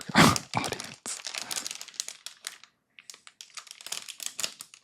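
Close, crisp crinkling of cellophane wrap around a LEGO City F1 Williams set, coming in irregular handfuls of crackle and rustle with short gaps between bursts, strongest at the start and quieter toward the end.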